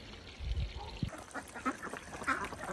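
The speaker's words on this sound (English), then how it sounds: "The ducks are super happy." Ducks quacking in short, scattered bursts at close range, with splashing and a low thud early on.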